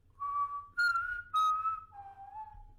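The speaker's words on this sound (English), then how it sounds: "But, that was you whistling." A person whistles the Mockingjay tune, four clear sustained notes with short gaps between them, close and loud against near silence.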